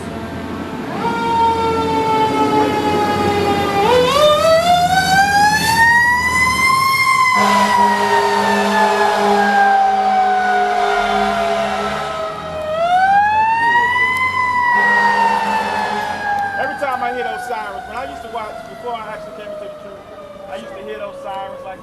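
Fire truck sirens wail loudly and close by, sweeping up and down in long rising and falling cycles across the whole stretch, with low rumbling traffic underneath and some faint background voices.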